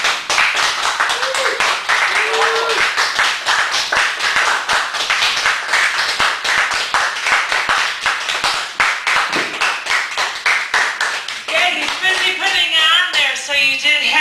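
Sustained, loud applause from a live audience at a poetry feature in a Chicago cafe, steady dense clapping throughout with brief voices and whoops breaking in near the end.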